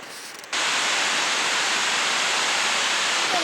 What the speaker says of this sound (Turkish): Suyun sesi geliyor buraya kadar.